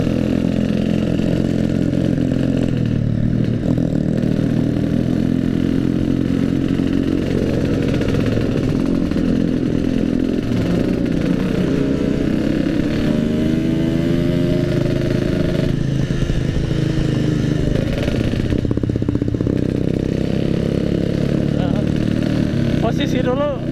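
Yamaha RX King two-stroke motorcycle engine revving loudly and continuously, close by, with rising and falling throttle sweeps, while people shout over it outdoors.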